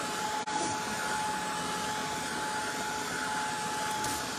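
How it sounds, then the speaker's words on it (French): An embossing heat tool set on high blows a steady, loud whirring hiss while drying an ink wash on crackle paste, running continuously with one brief dip near the start. "J'ai pris mon fer embossé. Fait que j'ai mis une chaleur forte"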